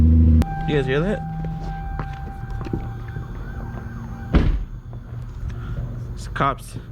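Police siren wails during a drive in a MKIV Toyota Supra, its rising and falling tone heard moderately near over steady road and engine rumble, with a sharp thump midway and brief speech.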